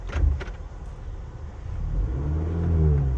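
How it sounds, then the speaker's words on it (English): Cadillac CT4-V engine revving toward its rev limiter, a close rumble that builds from idle into a rising, sustained rev over about two seconds, with a few faint clicks early on and no talk. "Now I'm gonna show you the rev limiter."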